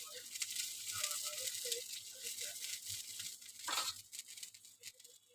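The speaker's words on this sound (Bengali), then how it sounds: "ঝোলটা আমার ফুটে গেছে" Fish curry gravy bubbles in a pan with a soft, uneven patter and light sizzle that rises and falls. It stays faint and close, with a brief louder crackle near the end.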